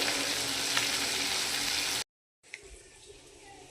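Amudi fish sizzles in hot oil in a pan in a home kitchen, a loud steady crackle that cuts out briefly and then resumes softer and quieter.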